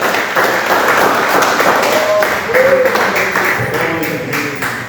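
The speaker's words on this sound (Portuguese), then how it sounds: "bate palmas para o Senhor" A church congregation claps during a worship service, a dense continuous patter of applause at close range with voices speaking and calling out over it.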